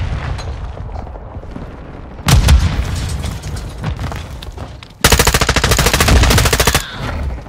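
Call of Duty: Modern Warfare II gunfire and a thrown grenade blast: loud bursts of rapid automatic fire, a heavy boom cutting in, then a long dense volley of rattling shots close by.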